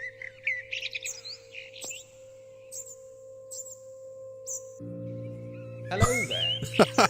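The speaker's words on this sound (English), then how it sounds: "Bird." Birds chirp in short bright bursts within The Lost Crown ghost-hunting adventure game, a few scattered calls over a steady low hum of ambience, followed by a louder flurry of rising and falling tweets near the end.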